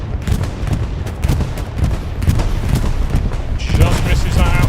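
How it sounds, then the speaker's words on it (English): Bombing run in the Hell Let Loose World War II game, a dense, continuous rumble of explosions and gunfire rolling on loudly, with a commentator speaking over the barrage. "Bombing run coming in."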